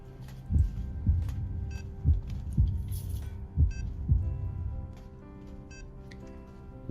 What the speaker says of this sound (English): One clearly recognizes a slowed heartbeat.